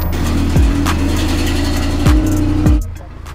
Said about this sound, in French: au niveau du bruit, c'est la ligne d'origine, euh, option RS, mais elle est décatalysée entièrement